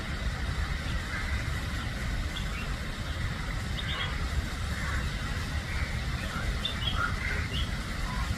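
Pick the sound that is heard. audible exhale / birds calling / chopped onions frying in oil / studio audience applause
birds calling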